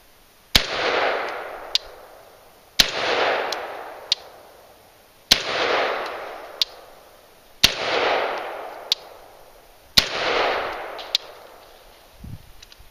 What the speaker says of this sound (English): they only fire one round each time you squeeze the trigger.